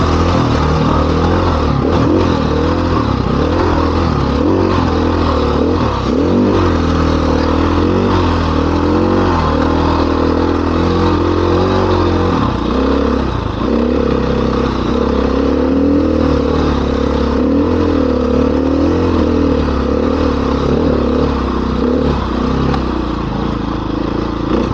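A dirt bike runs along the Rampart Range forest trail, its engine loud and continuous, rising and falling in pitch, with clatter from the rough ground throughout.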